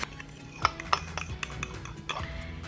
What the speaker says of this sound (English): Give this mayonnaise a good mix.